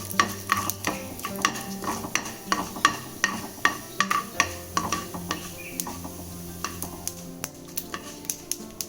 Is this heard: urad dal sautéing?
yes